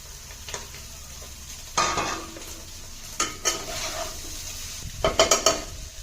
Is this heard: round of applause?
no